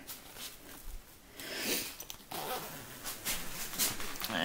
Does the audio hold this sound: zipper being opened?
yes